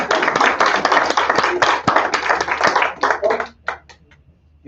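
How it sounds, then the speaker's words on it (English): Applause rings out at a naturalization ceremony in a room full of people, a close, lively burst of many hands clapping that thins to a few scattered claps and fades out. "I'll clap."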